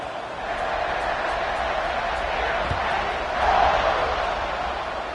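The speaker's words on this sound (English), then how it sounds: "this crowd is buzzing after that last score" A packed stadium crowd at a college football game, Missouri at Texas A&M, buzzes steadily through the whole stretch, a broad continuous roar that swells briefly near the end.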